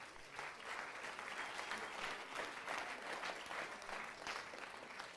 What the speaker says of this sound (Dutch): Een applaus alsjeblieft.